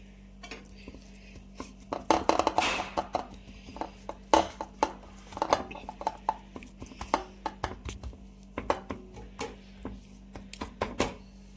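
Hot sesame tilgul mixture is spread and pressed in a pan, giving a string of sharp metallic taps and scrapes of a utensil against the pan, irregular and close, over a low steady hum.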